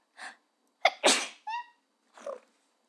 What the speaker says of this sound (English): I tried not to sneeze on you.